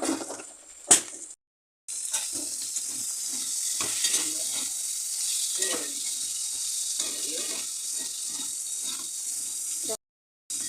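Chopped potatoes sautéed in a pan with ginger-garlic paste, cumin and chilli powder for chicken patties, giving a close sizzle broken by repeated spoon-stirring scrapes, with two short cuts to silence.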